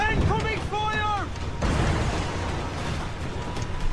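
Cannon fire in an Assassin's Creed 4 naval battle video game, a broad heavy boom rumbling over the sea after a short stretch of tonal game sound, with noisy booming texture filling the rest of the clip.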